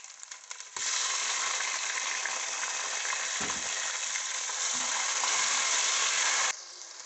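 Spices frying in a pan for a hara chana pulao as tomatoes go in: a loud, steady hiss of sizzling oil bursts up abruptly and holds for several seconds before dropping back, with no talking.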